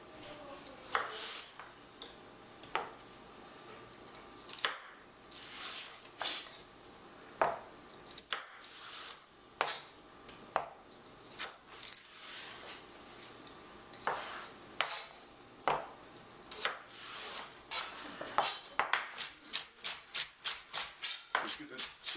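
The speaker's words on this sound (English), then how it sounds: "Just get the celery quick dice." Celery being quick-diced with a knife on a cutting board for split pea soup, a long run of sharp chopping taps that speed into a rapid rhythm near the end, close and fairly loud.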